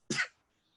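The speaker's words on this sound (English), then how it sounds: "That was such a beautiful sneeze." A dainty, short sneeze from a woman, a single quick burst close to the mic and fading almost at once into near silence.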